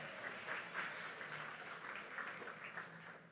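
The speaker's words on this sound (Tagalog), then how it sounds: "Pumalakpak mga tagalangit" A church congregation claps together in a steady, sustained round of applause, moderately loud with a roomy, reverberant wash of many hands.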